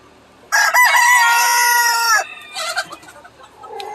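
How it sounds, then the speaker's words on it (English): Loud, close peacock call, a long harsh wailing cry that stops abruptly and is followed by a few shorter, fainter squawks and calls. "oh yeah, peacocks are extremely noisy."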